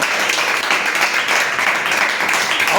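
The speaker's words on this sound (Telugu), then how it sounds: "అందరూ చప్పట్లు దేవుని స్తోత్రం." A church congregation claps in praise during a prayer service, a dense, loud, even wash of many hands that holds steady the whole time.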